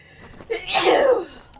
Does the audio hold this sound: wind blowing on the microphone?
no